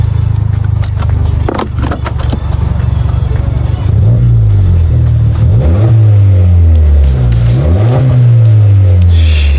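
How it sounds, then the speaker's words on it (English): A 2015 VW Polo 1.2 TSI (66 kW) engine revs on a mountain road, a loud steady drone rising and falling through several gear-change sweeps, heard from inside the car with a voice at times. "Don't know if you guys can hear the car."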